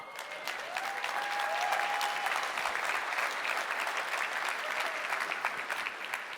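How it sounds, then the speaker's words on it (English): A large conference audience at an industry software event applauds steadily for several seconds, a dense, even wash of many hands clapping alone with no talk over it. "You can applause now."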